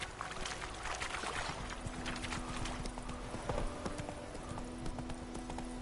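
A horse gallops in The Witcher 3 video game, its hooves drumming a fast, steady clip-clop rhythm that stays close and even throughout.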